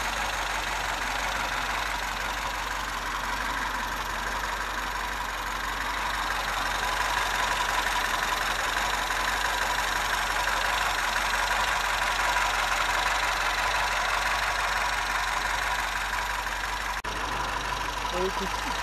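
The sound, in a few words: 1966 MG B engine idling with twin SU carburettors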